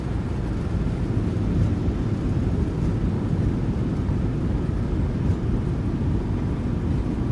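Boeing 737-800 thrust reversers roar during a landing rollout at Oslo Gardermoen in the MSFS2020 flight simulator, a loud, steady low rumble that holds for the whole stretch with no talk.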